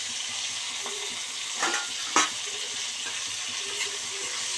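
Taro stolons and prawns fry in a pan with a constant close hiss of sizzling oil, broken by a couple of brief stirring scrapes, and no one talking.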